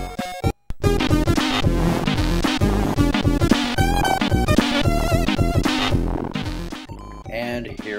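Commodore 64 game Vice Squad plays dense, continuous chiptune music with buzzing synth leads and rapid arpeggios, loud and unbroken after a brief dropout at the start, captured straight from the computer's output.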